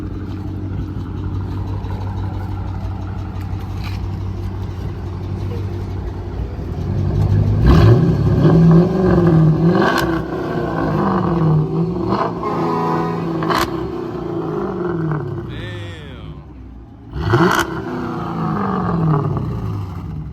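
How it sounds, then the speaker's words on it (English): A car engine revs hard outside, with loud surging bursts climbing and falling over a steady idle and a sharp blip near the end, heard alone with no talk. "Let me hear you rev it so I can hear it from the outside."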